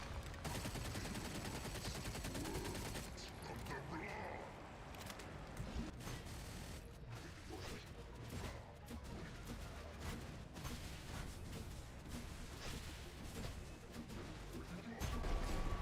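Gunfire in the vampire shooter video game Redfall: a dense, steady stream of rapid shots and impacts layered with busy game noise, running continuously at a fairly even level throughout.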